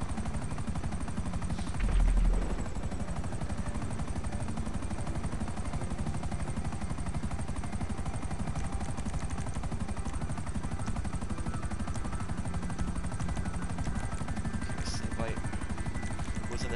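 A helicopter in the video game GTA Online, its steady whirring rotor drone filling the scene continuously at high level, with a short thump near the start and faint game noises over the top.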